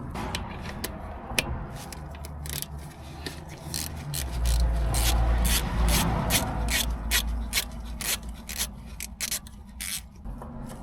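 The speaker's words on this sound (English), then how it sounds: "I'm just going to undo this bolt here, which is either a 10 or an 11." A wrench undoes an 11 mm bolt on a vehicle, with close, ratcheting clicks and scraping metal in an irregular rhythm, over a low rumble that swells in the middle, with no talking.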